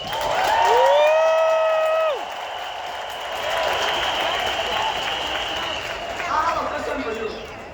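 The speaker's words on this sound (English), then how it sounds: "give yourself a round of applause" A convention crowd bursts into sustained applause. A loud, high whoop rings out at the start, then clapping and cheering continue steadily.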